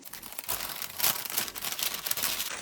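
Close, quiet crinkling and rustling of thin plastic packets of straws being torn open and handled, in short irregular bursts.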